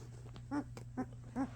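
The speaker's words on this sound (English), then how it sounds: "9-day-old German Shepherd puppies." Three short, high whimpers from nine-day-old German Shepherd puppies, evenly spaced and fairly close, over a steady low hum.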